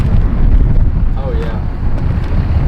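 Strong wind blasts against the microphone in loud, low rumbling buffets, with a brief voice cutting in partway through.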